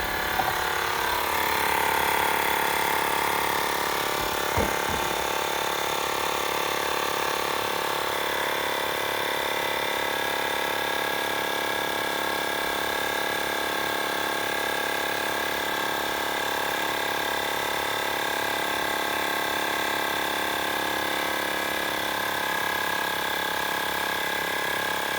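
A battery-powered bike pump runs continuously while inflating a bicycle tire, a steady electric motor drone with a high whine that holds for the whole stretch, close up and alone.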